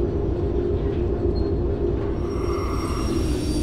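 A locomotive drifts along the rails in the train game Derail Valley, a continuous low rumble of rolling wheels and track noise, steady and fairly loud with no talk.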